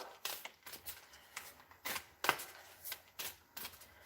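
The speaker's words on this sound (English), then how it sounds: "So we're going to pull some cards." Tarot cards being shuffled before a reading, a series of soft, quick riffling bursts repeating close by at a gentle, uneven rhythm, fairly quiet and with no talk.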